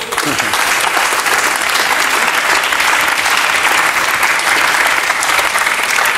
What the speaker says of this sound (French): Applaudissez-le quand même, puisque c'est de l'info.